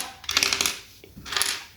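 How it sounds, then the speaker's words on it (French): Loose plastic keyboard keycaps clatter and click against each other in two short bursts, close by and crisp, with no voices. "c'est des touches de clavier"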